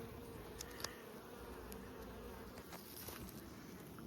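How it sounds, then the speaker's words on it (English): Buckfast honey bees buzzing steadily during a honey harvest, a dense, soft continuous hum of many insects with occasional closer individual buzzes, with no voices. "Beautiful buckfast bees."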